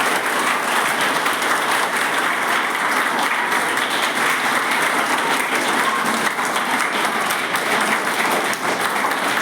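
A big crowd at a Mission IAS gathering in Ranchi, Jharkhand keeps up loud, unbroken applause, thick and uniform from start to finish with no voices standing out.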